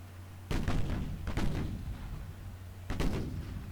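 Three deep booms of naval gunfire in the Ultimate Admiral Dreadnoughts video game, each a heavy thud with a rolling tail, spaced unevenly over a steady low hum.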